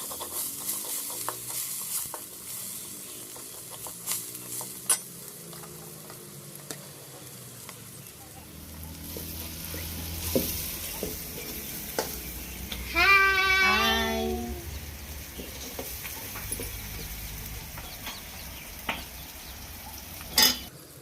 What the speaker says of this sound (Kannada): ಟಮಾಟ ಕಟ್ ಮಾಡ್ಕೊಂಡಿರೋದು ಸಣ್ಣಕ್ಕೆ ಅದನ್ನು ಹಾಕಿ ಫ್ರೈ ಮಾಡೋಣ